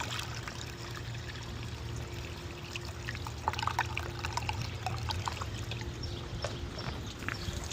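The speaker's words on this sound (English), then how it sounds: "I'm gonna put some water down here, and hopefully within just a few seconds or shortly thereafter, we should see water draining out about here." Water is poured into the body drains of a 2004 Chrysler Crossfire Limited, a continuous close trickle and splash with scattered drips running steadily throughout.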